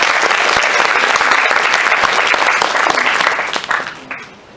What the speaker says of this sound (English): I think they deserve a big round of applause as well.